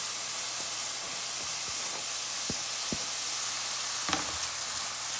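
Onions sautéing in butter with cremini mushrooms, a steady soft hiss and sizzle with occasional clicks of stirring against the pan.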